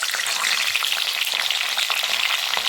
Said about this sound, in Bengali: তেল গরম হয়ে গিয়েছে, এখন আমি এর মধ্যে ছেড়ে দিচ্ছি আঙ্গুর।